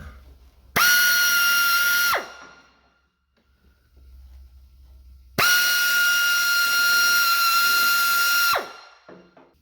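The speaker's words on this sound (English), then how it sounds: "Now I'm going to start drilling some pilot holes." A high-pitched drill whines in two bursts, the second longer, separated by a quiet pause, as it bores pilot holes into plastic car side skirts.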